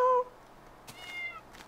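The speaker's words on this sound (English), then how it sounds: "There's a kitty." A cat in Minecraft gives two short meows, one at the very start and a softer, longer one about a second later, with quiet game ambience in between.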